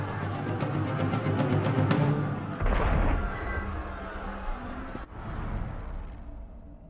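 Cannon fire booms in Assassin's Creed Unity: a rapid rattling volley gives way to a heavy, close blast, followed by rumbling echoes and another sharp report.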